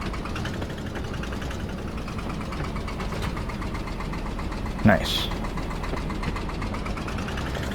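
A 45-horsepower tractor with a PTO shaft idles steadily nearby, a constant low rumbling chug with a knocking pulse. A voice cuts in briefly.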